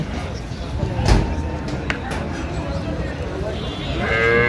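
Cattle at the busy Ambari livestock market in Dinajpur, where dairy cows and calves are sold, with a brief moo near the end amid people talking and general market bustle.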